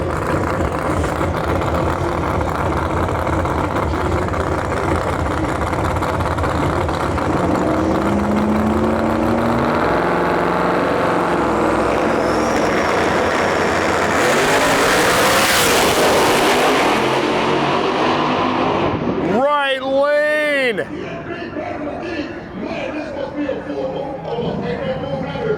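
Two fourth-generation cars at a Lights Out drag race, a nitrous Camaro and a Firebird, roar loudly with engines building to a peak before a sharp cutoff, mixed with track noise and an announcer talking.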